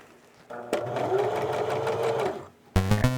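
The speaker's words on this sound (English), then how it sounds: "I have an extra sewing machine." A sewing machine runs steadily for about two seconds, a loud close mechanical whir with rapid rhythmic stitching ticks, stopping before a brief burst of another sound at the end.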